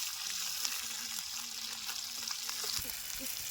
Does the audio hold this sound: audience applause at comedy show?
no